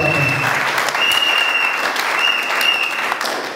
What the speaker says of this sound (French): vous pouvez applaudir pour ces temps que vous avez consacré